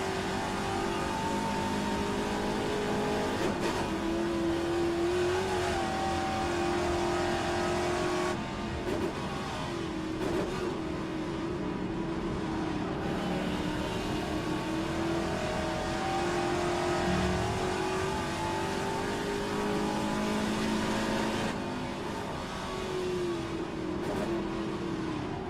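Classic Trans-Am race car lapping Bathurst in a race, a loud continuous in-car engine roar with gear changes and rising and falling revs throughout, no voices.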